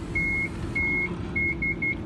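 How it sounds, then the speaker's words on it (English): A Toyota Hiace wheelchair lift sounds electronic beeps as it finishes its cycle: two longer tones, then three quicker short ones. They are clear and moderately loud over a steady low hum. "you hear that double beep, that again means that it's, you know, gone through its cycle and it's all ready to go"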